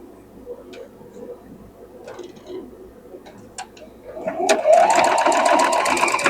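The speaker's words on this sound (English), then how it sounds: "Now we're going to sew this one on to here." A domestic sewing machine stitching a modern quilt block, starting after a few quiet clicks and handling noises into a steady, close, rapid mechanical whir that runs to the end.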